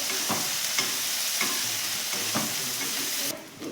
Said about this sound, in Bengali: পেঁয়াজটাকে একটু ভালো করে ভাজবো।